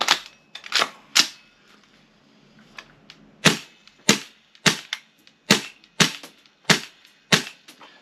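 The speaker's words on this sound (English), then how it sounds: "It's not firing on every shot, so that just won't do." A Tokyo Marui MWS airsoft gun fires a series of sharp, close, dry cracks at uneven spacing, with roughly a dozen shots and a quieter faint pop between some of them.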